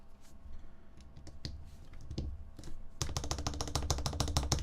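Someone types on a custom 65% mechanical keyboard fitted with JWK switches, with scattered close clacks at first, then a fast, dense run of crisp keystrokes.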